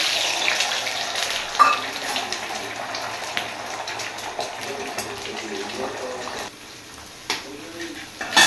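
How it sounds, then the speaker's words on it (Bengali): Eggs frying in a pan, a soft uneven sizzle with occasional clatter and watery hiss, close by, with some faint background voice. "তাই হচ্ছে ভাজছি ডিমগুলোকে।"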